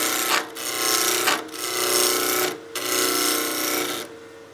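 A roughing gouge peels wood on a spindle turning on a lathe for a baby rattle, a loud continuous rasping whir broken by three brief pauses as the tool lifts off, close and alone.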